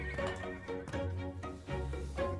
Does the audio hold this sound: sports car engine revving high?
no